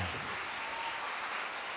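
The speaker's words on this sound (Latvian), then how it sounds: "Aplausi, draugi mīļie!" An audience at a Latvian reading festival applauds in a short, faint, even patter of clapping with no voices.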